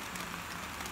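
Heavy early-morning rain falls steadily on outdoor surfaces, a faint, even hiss with no other sounds standing out.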